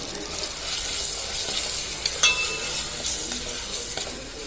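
Chili, sambar and coriander powders fry in oil with a steady sizzle while a spoon stirs and scrapes the pan, close and continuous, with a few light clinks and no voices.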